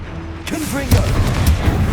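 A Confringo fire spell blast in the Hogwarts Legacy video game, a short burst of booming impact over rumbling low noise, lasting about two seconds with a second thump near the end.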